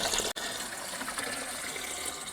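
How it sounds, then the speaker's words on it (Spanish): Water poured steadily into a plastic container during a leak repair test, a continuous near rushing splash from start to end with one brief break early on. "le voy a poner mucha más agua."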